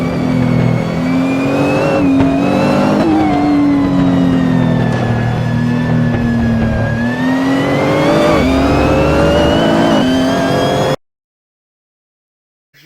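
A rally car engine revs loudly and drops in pitch as it brakes hard through a hairpin turn, then climbs again, ending abruptly in silence.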